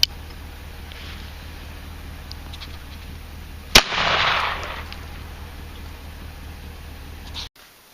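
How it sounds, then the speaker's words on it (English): Single sharp blast from a Kimel Kamper KK2 .410 shotgun firing 000 buckshot outdoors, one loud crack followed by a short rolling echo, then quiet. "410 cal firing 3-aught buck."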